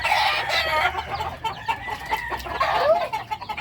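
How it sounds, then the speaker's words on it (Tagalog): Chickens and small chicks clucking and cheeping close by in a backyard flock, overlapping busy calls with high peeps scattered throughout. "Ayan o, mga sisiw."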